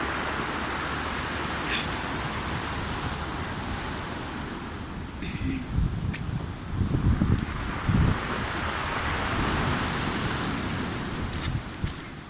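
Storm waves crash and roar onto the Villajoyosa shore during a winter storm, with strong wind buffeting the microphone throughout and louder surges of breaking surf partway through.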